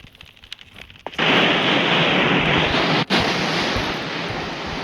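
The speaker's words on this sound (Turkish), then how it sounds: "Sifon çektik." A toilet flushing in the Skibidi Toilet video game: after a quiet moment, a loud rush of water bursts in and keeps churning steadily, with one brief dip partway through.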